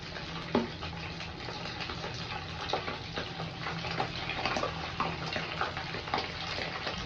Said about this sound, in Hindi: चिकन को फ्राई कर लेते हैं।